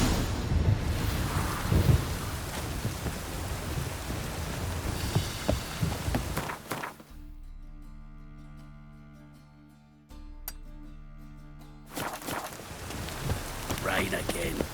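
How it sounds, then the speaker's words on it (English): Steady rain with rumbling thunder in The Witcher 3: Wild Hunt Next Gen on PS5 fills the scene, then drops out for a few seconds of quieter tonal music before the downpour returns. "Rain again. Damn mages."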